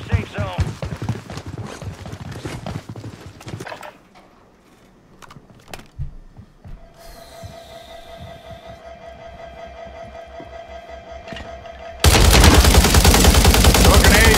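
Gunfire in the video game Warzone: rapid bursts of shots early on, then scattered single cracks, all set against game ambience and engine-like drone.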